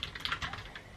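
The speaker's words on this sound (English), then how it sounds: "So I'll do some writing, show you my keyboard" Close, fast keystrokes on a Logitech POP mechanical keyboard, a steady clatter of individual clicky key presses with no talking.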